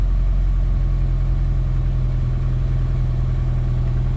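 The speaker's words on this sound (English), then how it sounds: "High idle when you start. Idle air control motor starts to kick in." A Jeep Wrangler or Cherokee engine runs at a steady high idle right after starting, with the idle air control motor stepping in. The low rumble holds constant and close throughout, with no voices.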